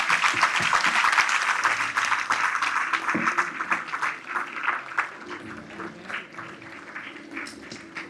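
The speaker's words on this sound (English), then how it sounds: "ஒரு மிகப்பெரிய கைத்தட்டல்கள் கொடுக்கலாம்" A large crowd at a school cultural camp claps enthusiastically after a dance performance, a dense wash of applause that gradually thins out, with some voices mixed in.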